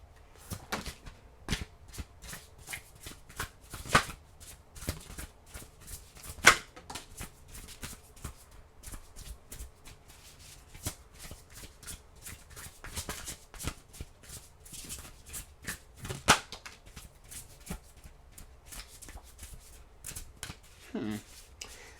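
Tarot cards being shuffled by hand during a Leo reading, a steady run of soft riffling and flicking bursts with a few sharper snaps, close and moderately quiet over a low background.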